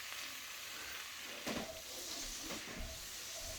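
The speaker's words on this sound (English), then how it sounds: "I got the potatoes frying up pretty nice" Potatoes frying in butter, a steady sizzle with a soft crackling hiss, fairly close, no talking, a few faint clinks partway through.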